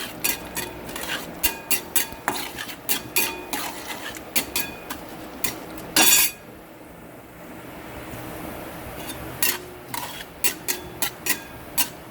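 Fenugreek seeds frying in a pan for a spicy cucumber chutney, with a steady run of sharp spoon scrapes and taps against the pan over a low sizzle, close and fairly loud.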